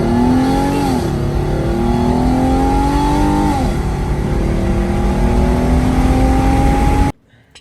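A Hyundai Genesis Coupe 3.8 V6 exhaust with test pipes drones loudly at steady revs, pitch dipping and climbing in a couple of surges, then cuts off abruptly.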